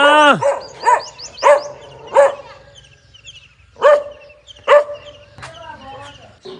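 Several dogs bark in loud, spaced outbursts from below a gate by a rain-filled pond, with whimpering yips between the barks.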